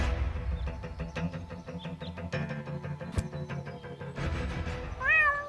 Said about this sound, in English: my poor kitty climbed up the tree and she's afraid to come down